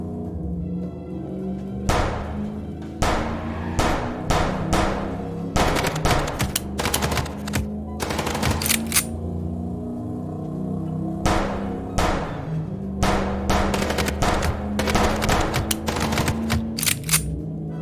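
Bursts of rapid machine-gun fire in the Chicken Police video game, loud and close, fired in clustered volleys with short gaps over a steady vehicle rumble.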